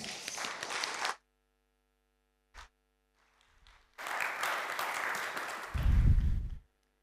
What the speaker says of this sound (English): So please, let's give them a big applause.